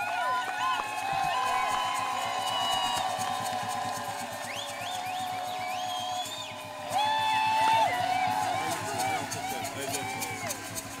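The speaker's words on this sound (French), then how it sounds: "nous posons la première pierre sous les acclamations des cris de joie" A crowd cheers at a first-stone laying ceremony, with excited shouts, whoops and high-pitched voices rising over a continuous babble of talk. The sound stays lively throughout and swells again partway through.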